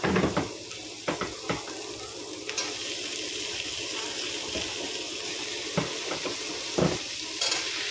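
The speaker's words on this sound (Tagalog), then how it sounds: "Magigisa po tayo ng bawang sibuyas." Beef with garlic and onion sautéing in a pan for caldereta, heard as a constant loud sizzle with a few sharp scraping stirs near the start and again near the end.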